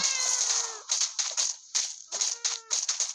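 A cat meows repeatedly in short, insistent bursts, close and loud, with brief pauses between cries.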